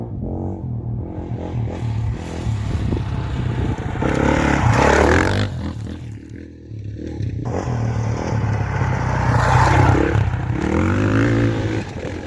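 A Beta 390 dirt bike rides past with a rough, rising and falling engine roar, swelling loud twice as it revs, with scrapes and clatter from the terrain and no voices.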